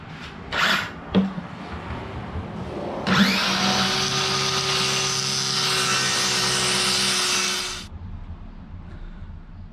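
Power tool cutting down a small wooden double-decker shelf for a teardrop camper: after a few knocks, a loud, steady high-pitched motor whine runs for about five seconds, then stops abruptly.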